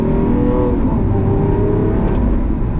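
A Lamborghini Aventador SVJ engine roars loud and close under steady acceleration, its droning note climbing smoothly with no voices over it.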